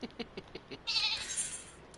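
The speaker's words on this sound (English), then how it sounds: "If you need a sheep." Bleating of a sheep in Final Fantasy XIV, a short burst following a few light rhythmic taps, clear and close with no talk over it.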